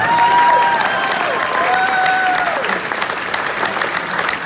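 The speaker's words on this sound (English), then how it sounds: "Everybody give Danielle a round of applause, please" A comedy roast audience breaks into loud, steady applause that fills the room, with some crowd noise and a voice speaking over the clapping.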